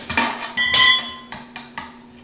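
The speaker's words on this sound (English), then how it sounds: "you just keep working around that bead until you get it off like that" Metal tire spoon clanks sharply against a steel wheel rim while prying the tire bead off by hand, several ringing strikes spaced about half a second apart, close and loud with no talking.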